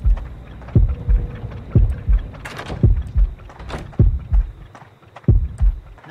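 Loud, close heartbeat pulses in the Horrorfield horror game, signalling an approaching killer: a steady thudding rhythm of paired low beats repeating about once a second, with faint clicks between.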